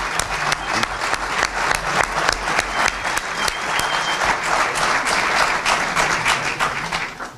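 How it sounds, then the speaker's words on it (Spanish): Sustained audience applause at a book presentation in Andosilla, dense, even clapping that holds steady for about seven seconds, with a brief voice or two in the crowd. "Quiero que le demos un fuerte aplauso"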